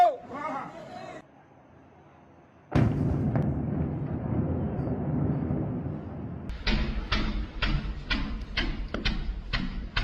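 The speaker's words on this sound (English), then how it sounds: "Señores, bombardeo Miraflores." Explosions from a bombing of Miraflores, Caracas: heavy rumbling blasts roll in after a short lull, then a rapid string of sharp, loud detonations crackles through, with voices shouting nearby.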